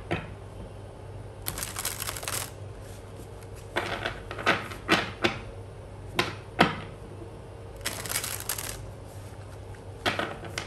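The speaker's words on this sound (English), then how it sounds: "Let me just shuffle the deck." A deck of cards is shuffled close up in several quick bursts of riffling and flicking, separated by soft taps and handling sounds in a quiet room.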